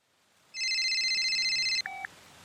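A telephone rings before a call, giving one long electronic warble of stacked bright tones followed by a short, lower two-tone beep, loud and close in a quiet background.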